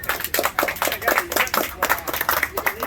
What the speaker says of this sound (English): You guys clap it up for yourself.